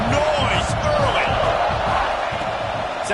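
A packed stadium crowd at a Miami vs SC football game roars in a loud, steady wall of cheering and noise, with a commentator talking over it.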